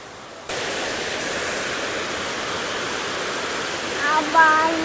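Steady, dense rushing water roars continuously after a quiet start, close by Savdav waterfall in Kankavli, Konkan, with a faint voice rising briefly near the end.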